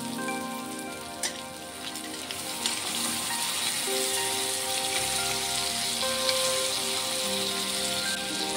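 Crab legs and potatoes fry together in a pan, making a soft, continuous crackling sizzle like light rain, with a few faint taps and a low hum entering midway and no talking.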